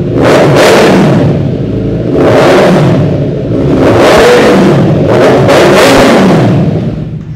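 A KTM RC Duke motorcycle engine revs hard again and again, about four loud surges that rise and fall close by, with no talking.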